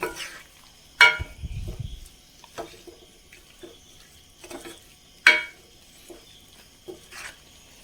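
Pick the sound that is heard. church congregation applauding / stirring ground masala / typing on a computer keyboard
stirring ground masala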